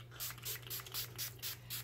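Paint sprays from a spray bottle into a small box, a series of about seven short, sharp hissing bursts in a steady rhythm over a low background hum.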